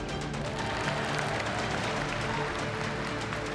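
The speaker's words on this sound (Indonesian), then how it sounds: "Tepuk tangannya kurang semangat." A crowd claps steadily at a Koalisi Indonesia Maju political gathering, a continuous, fairly dense wash of applause at moderate level without pauses.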